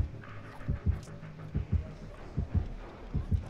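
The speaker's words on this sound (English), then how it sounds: "I hear the heartbeats." Soft, paired thumps of a heartbeat in the Dead by Daylight horror game, repeating steadily about every 0.8 seconds at low volume with no talk over it.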